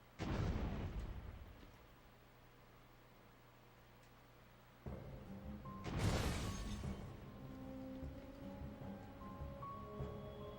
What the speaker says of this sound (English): Now the grenades should work.